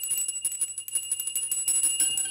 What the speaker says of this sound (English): The bell has a high sound